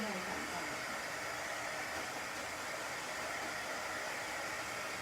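A hair dryer blows steadily onto a painted wooden block, a constant close whooshing hiss of motor and airflow that holds unchanged for several seconds.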